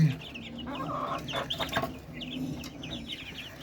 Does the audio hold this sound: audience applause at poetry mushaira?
no